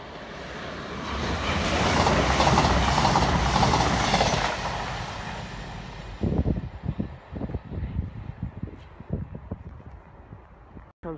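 An HST CrossCountry train runs through Northallerton station in the dark, a loud steady roar building and then fading. Rhythmic clickety-clack wheel thumps follow as the carriages pass.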